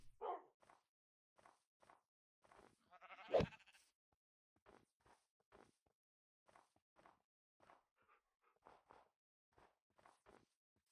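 A sheep in a modded survival video game gives one loud bleat midway, set among soft, regular footsteps that run throughout.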